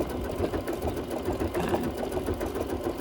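A sewing machine stitches through heavy thread on a wool craft project, running steadily and close with a continuous mechanical whir and rapid needle rhythm, no voices over it.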